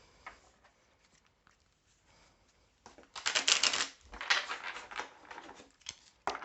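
Tarot and oracle cards are shuffled in quick, papery riffles and flutters, faint at first and then louder bursts in the second half, with no talk over them.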